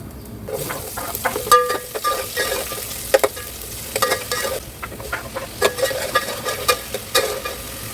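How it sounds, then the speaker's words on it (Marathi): Whole spices hiss and crackle in a few spoonfuls of hot oil, tempering for a spicy Kolhapuri chicken curry. A steady close sizzle with scraping stirring strokes and sharp pops, no voices. "तेल घेतलं आहे मी एक दोन ते तीन चमचे तेल घेतले खडे मसाले टाकते याच्यात"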